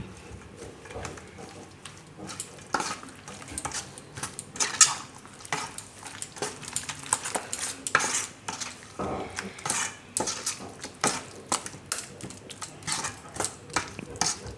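Leftover rotli pieces are mixed by hand in a pot, with busy clinks, scrapes and taps of a utensil against the vessel rising and falling in irregular bursts, close by and with no talk.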